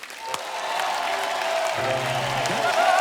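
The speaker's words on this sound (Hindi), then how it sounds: "आप सबकी जोरदार तालियों के बीच" A TV show audience breaks into steady applause to welcome a guest, the clapping building and continuing throughout with some cheering mixed in.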